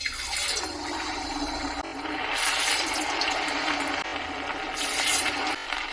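Medu vada batter deep-frying in a pan of oil, bubbling and sizzling steadily, a continuous hissing fry with brief louder surges.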